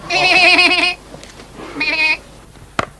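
A goat bleats twice, two loud wavering cries close by with a pause between, followed by a faint short knock.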